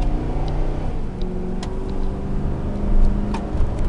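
A 2006 Ford F-150 XLT SuperCab pickup engine runs with a steady low rumble that builds and surges as it accelerates, fairly close and continuous throughout.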